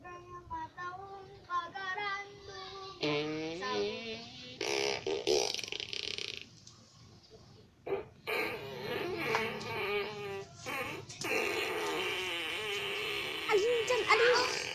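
A child blowing wet, buzzing raspberry-style fart noises with the mouth, a voice imitating flatulence in a string of squeaky, warbling bursts, interrupted by short pauses and playful vocal sounds.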